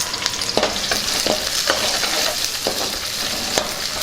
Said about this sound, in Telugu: ఉల్లిపాయ ముక్కలు వేగుతున్నాయి కదా